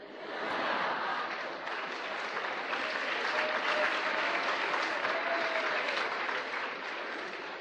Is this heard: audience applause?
yes